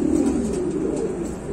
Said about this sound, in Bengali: দর্শক এই পাশে আরেক জোড়া লাহোরি দেখেন, দেখেন ডাকতেছে একদম অস্থির